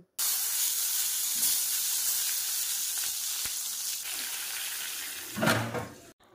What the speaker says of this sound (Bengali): বেগুনগুলো আমি ভেজে নিচ্ছি